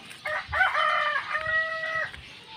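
A fighting rooster crows close by, one long drawn-out cock-a-doodle-doo with a rising, strained tone, over faint farmyard background noise.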